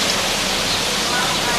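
Steady broadband rush of running water from a drinking fountain on an old street in Acre, Israel, continuous and close throughout.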